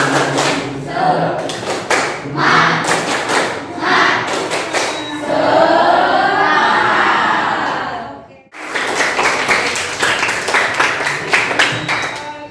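A group of students claps together in a rhythmic spirit-clap pattern in a classroom guidance session, the claps coming in quick bursts with a sustained patch of mixed noise in the middle and a short pause before the clapping resumes.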